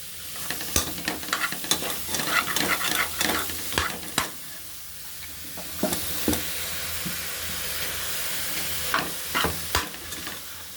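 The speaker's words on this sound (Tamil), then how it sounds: "தக்காளி போட்டு நல்லா வதக்கணும் போட்டு வதக்கணும்" Vegetables and tomatoes being sautéed in a pan for vegetable biryani, with a steady sizzle and repeated scraping stirs throughout, close and moderately loud, no talking.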